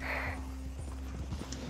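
A cursed horse in Red Dead makes a short burst of clip-clopping hooves over a steady low hum, with faint scattered sounds behind it.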